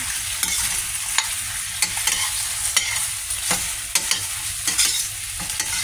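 Chicken wings frying and browning in a pan, a strong steady sizzle punctuated by rhythmic clacks and scrapes of a spatula stirring them, close by and uninterrupted.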